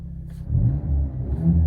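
A Hyundai Avante N plays its synthesized sport-mode engine sound, a short, deep rumble that swells as if revving, heard alone with no talk.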